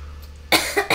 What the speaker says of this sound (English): I can hear my coughs.